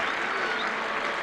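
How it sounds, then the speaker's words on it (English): A stadium crowd applauds at half-time of the 1988 Bicentennial Gold Cup football match between Australia and Saudi Arabia, producing a steady, distant wash of clapping and cheering. "Listen to the applause."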